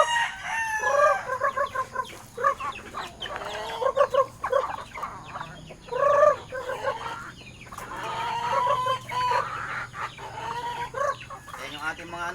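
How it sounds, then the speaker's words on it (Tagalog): Backyard pet chickens and roosters at morning feeding time in the Philippines: repeated loud crowing from several nearby roosters over constant clucking of hens, with a little faint background noise. "Papakain na naman tayo ng ating mga alagang manok."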